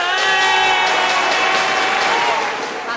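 An audience at a comedy parody show claps and cheers loudly, a thick wash of applause over a sustained musical backing that fades slightly toward the end.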